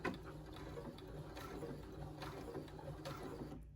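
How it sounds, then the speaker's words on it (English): A regular home sewing machine stitching a t-shirt neckline, a soft steady mechanical whir with a fast repeating needle clatter, faint and continuous, with a few slightly louder pulses. "Let me take a couple of stitches."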